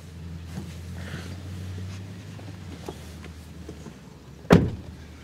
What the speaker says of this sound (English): The rear doors also close with a nice soft thud